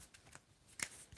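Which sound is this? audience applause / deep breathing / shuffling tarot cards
shuffling tarot cards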